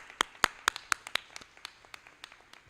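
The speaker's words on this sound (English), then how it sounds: "Let's give these folks a round of applause," Sparse clapping at a Veterans Day ceremony, a handful of distinct sharp claps at an irregular pace that thins out into lighter, scattered taps, with no voices heard.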